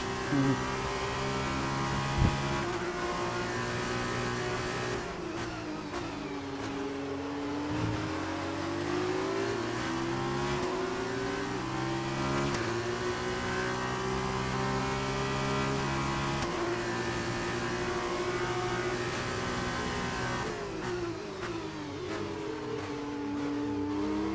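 F2 race car in the F1 2019 racing game at Austria, its engine whining steadily with revs rising and falling in clear sweeping pitch changes, then sagging as the car bogs down, loud and continuous.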